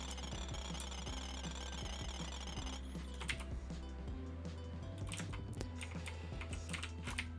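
A mining drill in the game Coal LLC chatters in rapid mechanical ticks over a low steady hum, faint and continuous, shifting in texture partway through with no one speaking.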